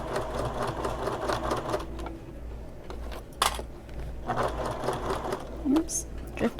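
A sewing machine stitches a seam on a convertible bag, running in close, steady whirring bursts with brief pauses and small clicks between runs.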